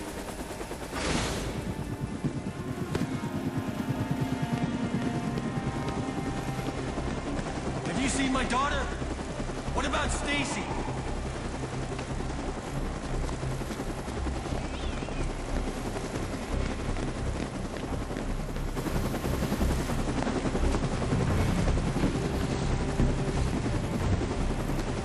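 Helicopter rotor noise from the Dead Rising 2 video game, set in Fortune City during a zombie outbreak: a steady, loud roar runs throughout, mixed with shouting voices and other game sounds.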